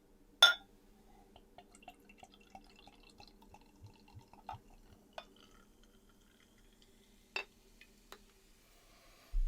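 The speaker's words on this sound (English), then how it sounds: "I'm going to pour this out into a Sucrums glass" Space Opera Cocoa Bean Doppelbock beer is poured into a glass, giving a quiet run of soft drips and small clinks, with a couple of sharper knocks against the glass and no talking.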